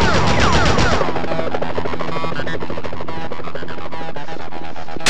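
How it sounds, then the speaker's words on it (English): Gunfire in the Spider-Man PS1 video game, rapid machine-gun style bursts rattling densely over a loud, busy game soundtrack with a throbbing hum beneath. "Enough with the shooting already!"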